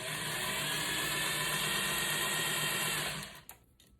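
A sewing machine runs steadily at close range as it sews a cord along a seam, a constant whirring drone for about three seconds that then stops, followed by a faint click.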